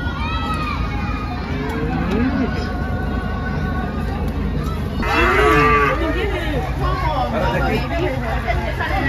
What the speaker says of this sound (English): Hey, if you see the cow?